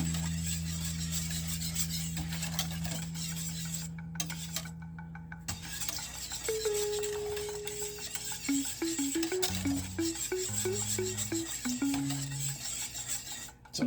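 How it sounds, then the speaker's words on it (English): Jamaican cornmeal porridge stirred in a pot on a low stove: soft, steady scraping and rubbing, close by, with a faint melodic tune playing in the background. "you gotta keep stirring it for it not to stick"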